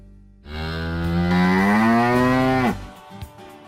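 A single long, loud cow moo from farm cattle, rising and holding steady for about two seconds before cutting off, heard alone with no talking.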